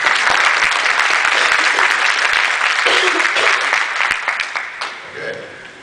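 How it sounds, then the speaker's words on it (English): Attendees at a World Science Fiction Society business meeting give a strong round of applause that holds steady, then thins out and stops as a voice begins. "Perhaps we applause for his contribution."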